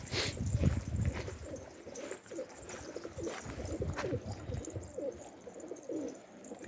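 Released pigeons or doves coo repeatedly at close range, soft throaty calls recurring over steady outdoor background noise, with faint chirps mixed in.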